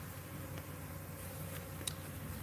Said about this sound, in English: Those are my bees again.